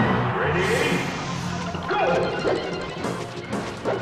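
Roy lands a forward smash in Super Smash Bros. Melee with a loud crashing hit and sharp follow-up impacts, while excited commentators talk over the action.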